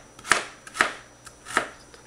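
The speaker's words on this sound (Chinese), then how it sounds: "切碎佢少少啦。" Fresh ginger being finely chopped with a knife on a board, three or four sharp, separate chops spaced apart, close and clear with no talk.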